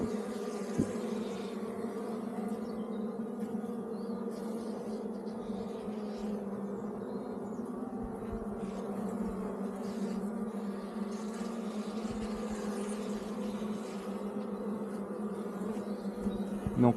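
Honeybees at an opened hive fill the air with a dense, steady, agitated hum, a constant close swarm buzz with no pauses and no voices.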